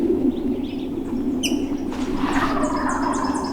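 Wild turkeys calling on a hillside, several short bursts of yelps and clucks at moderate distance over a steady low background rumble.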